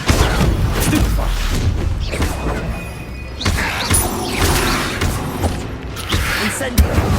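Spell effects in Hogwarts Legacy combat, with the Stupefy stunning spell among them: loud magical blasts, thuds and crashing impacts over a dense game soundscape, with voices mixed in.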